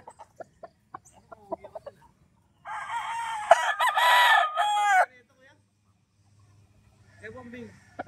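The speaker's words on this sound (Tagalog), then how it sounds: "Papakita ko na lang sa inyo yung mga manok dito," Chickens and roosters at a farm, with a loud rooster crow rising in the middle, light clucks and pecking ticks before it, and softer fowl calls near the end.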